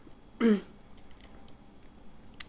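A single short cough from someone sick with a cold, close to the microphone, followed by near silence with faint small clicks.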